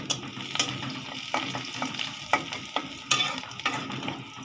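Onion and chili fry in a pan with a continuous sizzle. Clicks and scrapes of stirring come at irregular intervals, close up and with no talking.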